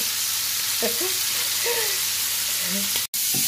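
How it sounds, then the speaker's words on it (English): Prawns sautéing in a home kitchen pan give a steady, fairly loud sizzle and hiss throughout, with a few faint voice-like sounds or squeaks in the background and a brief dropout near the end. "I'm trying to make some sauteed prawns for my husband"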